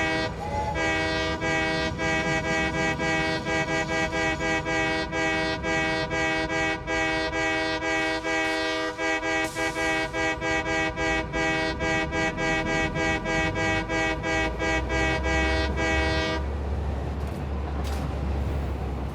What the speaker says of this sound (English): The steam whistle.